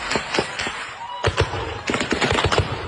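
Sharp impulsive cracks of gunfire in a recorded clip of an attack on a house in Nigeria after a church service, scattered irregular reports at close to moderate distance, clustering more densely in the second half.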